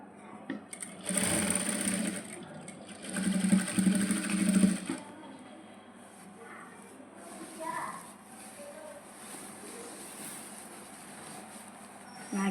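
A sewing machine stitches a half-inch shoulder seam on a maxi dress in two loud whirring bursts close by, with someone talking before and after.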